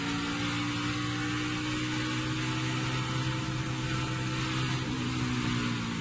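A NASCAR stock car throttles up during practice at the Charlotte Roval in 2018, its engine a steady, loud droning whine with sustained tonal harmonics and no talk over it.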